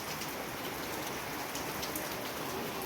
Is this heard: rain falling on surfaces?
yes